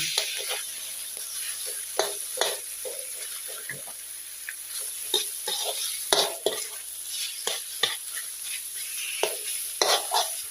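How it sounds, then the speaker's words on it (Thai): Pork being stir-fried in southern Thai curry paste in a pan: a steady sizzle broken by repeated scraping and clanking spatula strokes at an uneven rhythm, heard close and alone, with a faint running-water hiss in the background. "แล้วก็จะเอาหมูลงผัดเลย"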